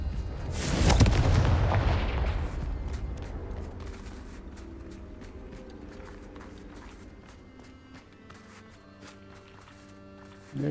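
Confringo blasting curse going off in Hogwarts Legacy, a sharp burst near the start that booms and rumbles, then trails into a long fading tail under low game ambience.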